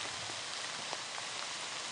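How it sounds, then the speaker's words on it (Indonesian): Drizzling rain falls steadily on a rural plantation during logging work, a constant soft hiss of fine drops with a few faint individual patters, even and close, with no voices. "cuaca gerimis ya"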